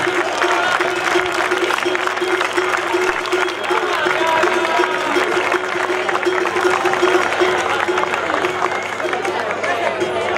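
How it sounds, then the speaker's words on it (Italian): Sustained applause from a crowd at a Skyrace awards ceremony, steady and dense throughout, with a faint murmur of voices mixed in. "Un applauso anche per lei."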